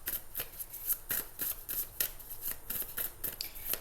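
Tarot cards being shuffled by hand at close range, a steady run of crisp, rapid riffling snaps with no talking.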